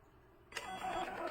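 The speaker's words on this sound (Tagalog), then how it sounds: "nag-print na yung label" A label printer at a milk tea shop's point-of-sale counter starts printing after a quiet moment, with a sudden mechanical onset followed by a steady, close feeding and printing whir that lasts to the end.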